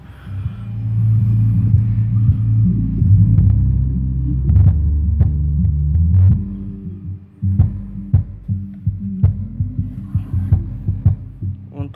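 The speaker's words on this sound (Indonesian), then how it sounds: "Dan di sini saya masuk ke inputnya, input subwoofer Yamaha SW1000." A Yamaha SW1000 subwoofer plays bass, giving a deep throbbing rumble that pulses unevenly, steadier at first then broken into punchy thumps, loud and close with no talk over it.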